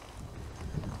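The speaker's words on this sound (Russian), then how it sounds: "Ветрище уже." Strong wind buffets the microphone with a low, rumbling roar outdoors at a village house building site, steady and close, briefly gusting harder midway through.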